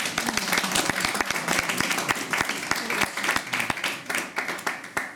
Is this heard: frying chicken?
no